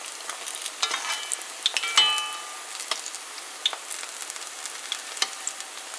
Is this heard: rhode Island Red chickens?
no